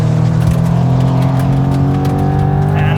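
Jaguar F-Pace SVR sport SUV with a V8 engine revving hard and close, a loud sustained roar climbing in pitch toward high RPM with no talk over it.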